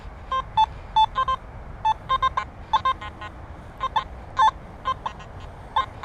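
Short electronic metal detector beeps at a steady pitch, from a sniper coil, pop up irregularly over a low rumbling background hum, some single, some in quick pairs, fairly faint.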